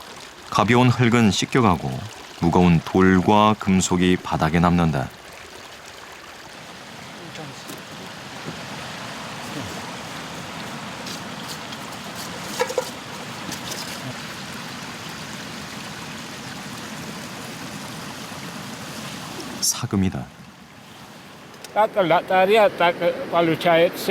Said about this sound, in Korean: 강물이 흘러가게 물기를 터주면